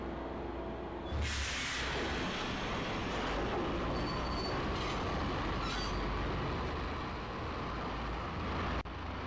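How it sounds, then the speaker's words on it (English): A train in the Max Payne video game rolls along its tracks, a steady loud rumble with metallic wheel squeal and clatter running throughout, starting with a sharp burst near the beginning. "And we'll just start moving the train along."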